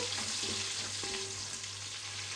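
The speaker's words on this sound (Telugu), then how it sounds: "ఇవి బాగా మంచి బ్రౌన్ కలర్ వచ్చే వరకు ఫ్రై చేసుకోవాలి" Sliced onions fry in a pan for village-style mutton biryani, giving a steady close sizzle with a few soft stirring clinks over a low hum, no voices.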